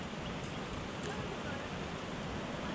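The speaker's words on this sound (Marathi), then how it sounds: "आवाज पाण्याचा इथपर्यंत येतोय आपल्याला." A river flows somewhere out of sight near paddy fields around Lonavala during heavy rain, its steady broadband rush carrying from a distance as an even, unbroken wash of water noise.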